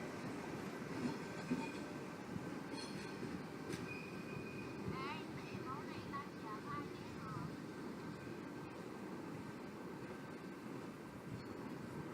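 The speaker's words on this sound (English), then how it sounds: "that train does conclude the video" Sydney train moving through Erskineville railway station, a steady rolling rumble with metallic wheel squeals and brief screeches, heard from the platform at moderate distance.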